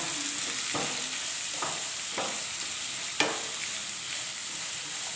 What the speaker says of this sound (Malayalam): കറിവേപ്പിലയും പച്ചമുളകും കൂടി ചേർത്ത് കൊടുക്കാം ഇനി ഇത് നന്നായിട്ടൊന്ന് വഴറ്റിയെടുക്കണം